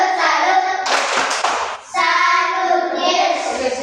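Classroom students clap together in a rhythmic cheer, a burst of dense hand claps followed by a pause, mixed with children's chanting voices.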